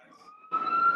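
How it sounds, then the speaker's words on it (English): An outdoor siren starts abruptly about halfway through, a steady wailing tone that rises loud and close and holds, with quieter ambient hum before it. "the siren's coming on as soon as you get on"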